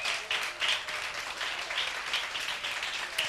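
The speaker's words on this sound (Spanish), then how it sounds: "apláudalo con gozo" Steady applause from a church congregation, a dense even patter of many hands clapping that fills the room without pause, moderately loud and continuous throughout.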